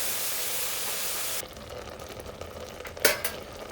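Turmeric powder heats in a pan over a low flame, giving a soft hiss that fades after a second or so, followed by faint stirring scrapes and a brief clink of a spoon against the pan.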